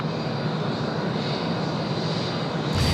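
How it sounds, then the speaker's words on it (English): A Jetstar airliner rolls past on a taxiway at Sydney Airport, its engines giving a constant, even rumble and hiss at moderate distance, with no voices. "Jetstar 810 just there on screen now, rolling past, heading off to Brisbane."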